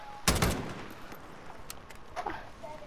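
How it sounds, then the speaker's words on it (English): Gunfire from the video game Modern Warfare: a loud, sharp burst of rapid shots near the start, then a second, shorter volley a couple of seconds later over a low background hum. "I get it, you can shoot bullets"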